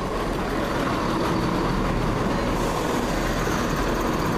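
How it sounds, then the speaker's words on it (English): A steady low rumble and rolling hum of a passenger train approaching along the tracks at Malvern Link station, constant and fairly loud with no voices. "here comes my train, the 855, London service to Kidderminster"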